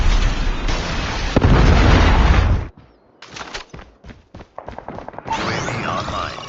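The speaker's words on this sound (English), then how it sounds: "Predator missile inbound." A Predator missile strikes in a first-person shooter video game, opening with a loud sustained blast and rumble, then a string of sharp pops and crackling bursts of gunfire-like debris.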